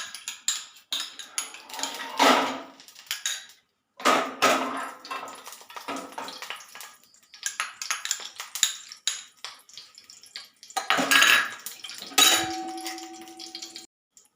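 Cashew nuts dropped into hot ghee in a pan for sago payasam, giving repeated clinking, scraping and rattling bursts at close range with brief pauses and no talk.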